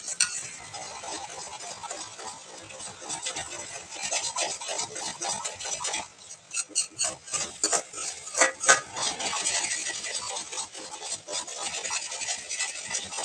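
A spoon scrapes and stirs egg pepper fry in a pan at a quiet, close level. The steady scraping is broken by a run of sharper metal clinks and taps midway.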